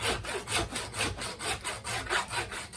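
A hand saw cuts through deer carcass bone in even back-and-forth strokes, about five rasping pulses per second with a gritty tone, close and fairly quiet, no voice over it.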